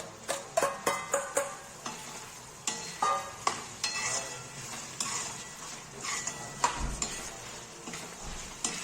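Tomatoes being stirred into paneer bhurji in a pan with garlic paste, giving a run of close, sharp scraping taps in quick succession over a steady sizzle of frying.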